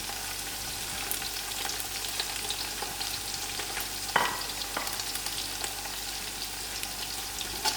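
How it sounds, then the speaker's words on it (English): Biryani spice mix, thyme and curry leaves fry in hot oil with browned onions, making a steady close sizzle with scraping stirs and one sharper clink partway through. "After the onions are gone brown, I will add in my biryani mix, my thyme, my curry leaf,"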